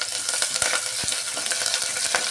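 Curry leaves and green chilies fry in hot oil as a tempering for garlic dal rice, giving a dense, continuous crackling sizzle with small pops, close and steady throughout, with no talking.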